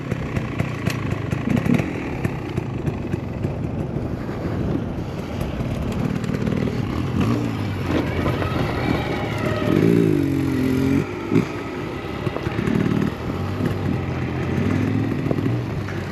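A Stark Varg electric off-road motorcycle motor whines and revs unevenly over constant rough clatter and rumble on an enduro trail, rising in pitch briefly midway, with no voices.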